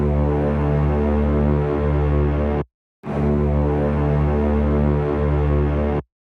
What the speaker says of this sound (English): It's just this brass one shot that sounds like this.